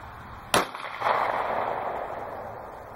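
A single close 9mm pistol shot firing a Winchester Defender 147-grain standard-pressure round, a sharp loud crack followed by a lingering outdoor rumble and echo that slowly fades.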